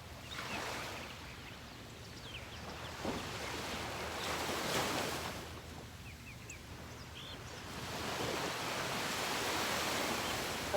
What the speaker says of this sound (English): Hopefully you can hear the waves still. Can you hear the waves?